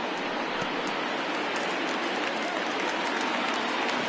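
A big baseball crowd of over 39,000 at a simulated Cubs–Pirates game roars and cheers in a continuous dense wash, loud and steady throughout.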